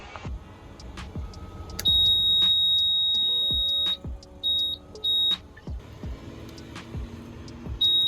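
An outboard motor's warning alarm sounds in loud, steady high beeps, one long tone then short bursts, over a low engine rumble and scattered clicks.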